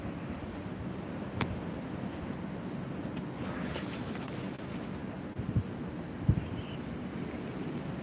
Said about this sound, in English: That wind is fucking cold too.